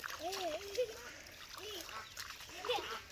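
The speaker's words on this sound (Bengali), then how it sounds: "হাঁস ধরতে হইব, হাঁস ধরতে হইব।" Ducks being chased through water in a children's duck-catching game, with a few quacks and splashing at a distance while people talk loudly over them.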